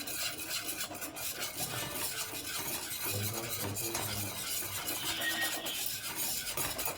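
Milk powder is stirred into raw milk in a bowl, a steady scraping and rubbing of the utensil against the container that runs without a break, with no talking.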